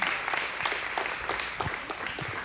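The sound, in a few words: audience applause at luncheon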